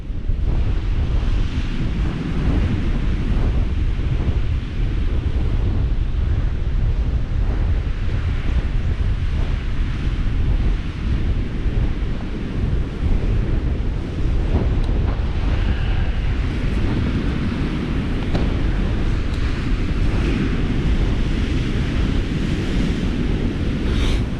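Storm waves break heavily over a rocky ledge at Workington beach as strong wind buffets the microphone, making a loud, continuous roaring wash with no pauses and no one talking.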